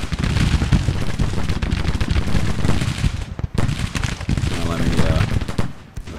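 Artillery fire in the Civil War strategy game Grand Tactician, a rapid, dense barrage of booming cannon and crackling gunfire rolling on continuously, with one short lull and fading briefly toward the end.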